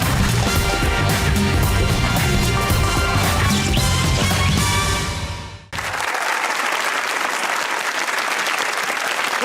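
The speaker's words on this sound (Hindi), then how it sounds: "तालियां बजाइए इसके बाद।" Studio audience applause on a Pakistani comedy talk show, with music playing under it that cuts off abruptly partway, after which the clapping continues alone.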